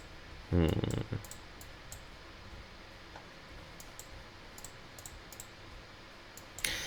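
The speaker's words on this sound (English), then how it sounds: "Sorry, I keep clicking on things here." Sharp, light computer mouse clicks tick repeatedly during a PC Warsaw Pact wargame session, faint and scattered against a quiet background, with a brief louder burst of voice near the start.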